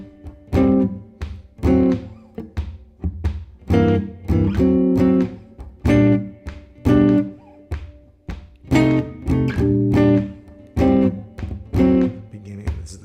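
A guitar plays chord voicings in a repetitive right-hand pattern, two voicings per bar, with short punchy chord stabs recurring steadily and up close over about thirteen seconds.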